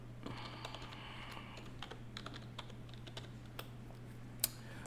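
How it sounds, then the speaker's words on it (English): Typing on a computer keyboard while entering a search query, producing a sparse string of quiet, irregular key clicks over a steady low hum, with no one speaking. "Let's type in Warren Buffett."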